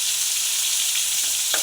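Brinjal pieces frying with turmeric and salt, stirred in a pan: steady bright sizzle throughout, with a few soft scraping stir strokes near the end, no talk.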